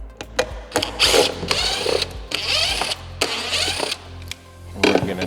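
A power driver takes T25 screws out of the speakers on a 2024 Harley-Davidson Street Glide Ultra, giving several short, loud whirring bursts separated by pauses and small clicks of handling.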